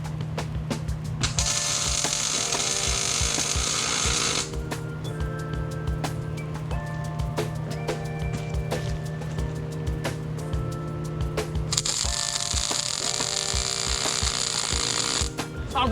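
Welder tacking a steel tow bed sub frame for a fire truck toy hauler, a steady crackling arc buzz with short bursts and pauses between tacks, close and fairly loud in a shop setting.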